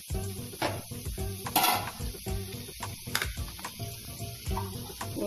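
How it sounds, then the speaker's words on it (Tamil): Ridge gourd bubbling in water and oil in a pan, with a soft simmering hiss under repeated scraping stirs and light clinks of a spoon against the pot at close range. "பாருங்க, நல்லா அழகாக தண்ணியோட ஆயிலோட கொதிக்குது."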